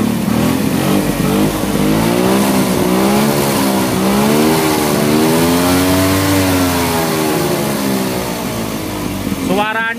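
A 1983 Suzuki Carry ST20 pickup's two-stroke engine with three spark plugs and a small Mikuni-style carburetor revs up and down, a loud, close buzzing drone that rises and falls continuously for about ten seconds.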